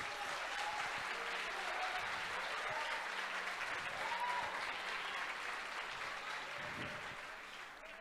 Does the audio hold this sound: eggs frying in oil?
no